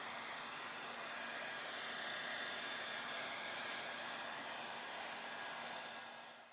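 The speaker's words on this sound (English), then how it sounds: "Grab a hairdryer and slightly warm up the boots." Hair dryer blowing warm air onto leather boots before waxing, a steady even whoosh with a faint motor hum, constant throughout and tapering slightly at the end.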